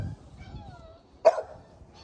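A chocolate-colored female puppy gives a single sharp yip or bark midway, short and fairly close, over a quiet background with faint low rumble.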